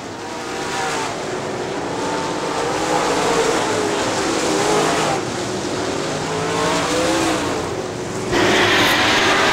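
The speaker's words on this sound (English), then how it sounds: "Bill Trueblood and Troy Vanderveen continue to battle at third and fourth spot now as they run nose to tail" Late model stock cars race around Crystal Motor Speedway in a continuous loud engine roar that swells and fades as the pack passes, with revving through the turns. No talking is heard.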